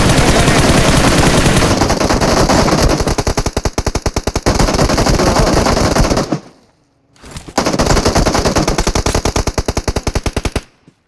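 Automatic gunfire in the PUBG Mobile battle game, long rapid bursts of loud shots with a brief pause before another sustained volley.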